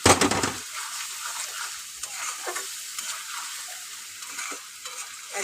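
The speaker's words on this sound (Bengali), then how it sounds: "দিয়ে আমি ভালো করে কষাবো।" Egg curry spices with turmeric sautéing in a pan: a steady close sizzle under repeated scraping stirs of a spatula, opening with a brief louder clatter.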